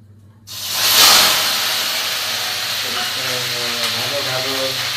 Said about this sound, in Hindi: अभी तेल गरम हो गया है, प्याज डाल देते हैं इसमें।